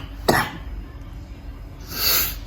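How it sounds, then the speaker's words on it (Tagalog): A man with a lingering cough gives one sharp, close cough, followed later by a breathy exhale in an otherwise quiet room. "medyo may ubo pa rin ako."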